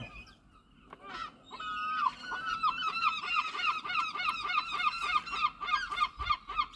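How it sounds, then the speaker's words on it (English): Seagulls nesting on a garden roof while raising their young call repeatedly in loud, rhythmic, honking squawks, close by and overlapping for most of the stretch, with no talk. "You'll have to excuse the seagulls, they're raising their young at the moment and are nesting on my roof, so they're being a bit gobby."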